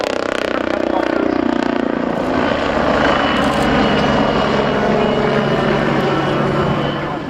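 A helicopter at an RAF air show passes with a loud, continuous rotor and engine drone that shifts in pitch as it moves, while a public-address commentator speaks faintly underneath.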